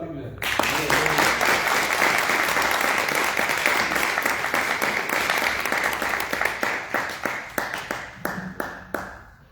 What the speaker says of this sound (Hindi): खुदावन के लिए जोर से ताली बजाएं।